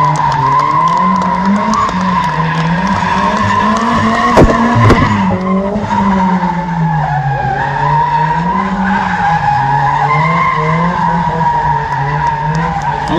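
A Nissan drift car slides sideways through a gymkhana run at a Kraków tuning show, its engine droning loudly and steadily with rising and falling revs, while tyres squeal and skid continuously close by.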